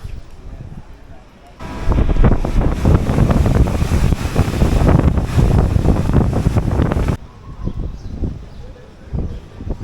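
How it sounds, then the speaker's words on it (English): Strong wind in Tenerife buffets the microphone in a loud, roaring burst for several seconds, quieter gusts before and after. "Very, very windy."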